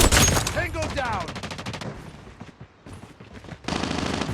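A shotgun fires on auto mode in a first-person shooter video game, with rapid loud blasts in a fast burst near the start, more scattered shots after it, and a final dense burst of gunfire.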